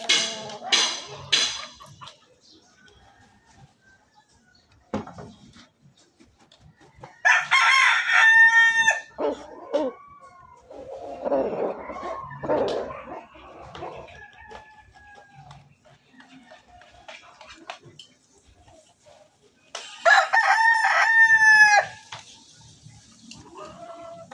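Several loud rooster crows ring out near the start, midway and near the end, with softer clucks and scattered background noise between them.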